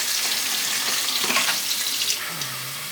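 Water gushing from a tap into a container, a close, steady rushing hiss that shifts in tone as the vessel fills, then tapers off.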